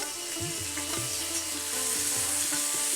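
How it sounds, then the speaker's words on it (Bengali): Raw mango pieces frying in a hot spice tempering with slit green chilli, a continuous bright sizzle with intermittent scraping stirs of a spatula against the pan. "আমটাকে এবারে ফোড়নের সঙ্গে একটু ভেজে নিচ্ছি"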